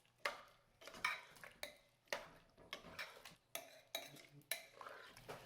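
A spoon mixes spice powders, coriander powder and garam masala, into black chickpeas for Punjabi kala chana masala, giving about eight separate scraping and clinking strokes against a metal vessel at a regular pace, close and quiet.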